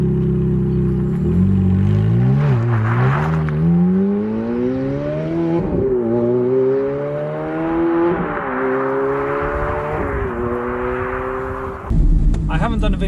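A Ferrari F430 drives with the roof down, its engine droning and rising in pitch through several gear changes, heard close and loud with wind noise over a damp road.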